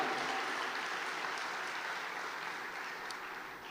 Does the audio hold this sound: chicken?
no